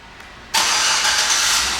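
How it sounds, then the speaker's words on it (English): A 2008 Chevrolet Suburban LT, white SUV, cranks and fires up by remote start after a quiet half-second, then settles into a loud, steady broadband engine roar close to the microphone, with no talking. "And the car turns right on."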